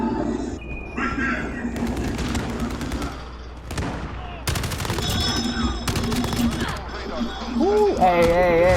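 Gunfire in the video game Call of Duty: Modern Warfare, with repeated bursts of automatic weapon fire and sharp shots interspersed with in-game sound effects, heard alongside players talking.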